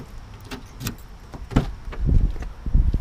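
A single car key jangles in short metallic bursts close by, with a few clicks and handling noises in between.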